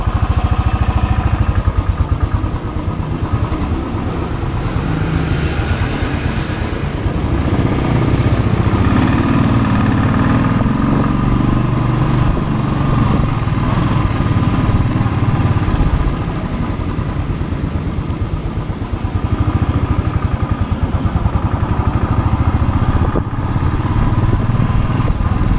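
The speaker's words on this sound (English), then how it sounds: "Getting ready to take first ride on the Royal Enfield Rumbler 500cc motorcycle" A Royal Enfield Rumbler 500cc motorcycle runs steadily and loudly up close, its warmed-up single engine giving a continuous low rumble with no voices over it.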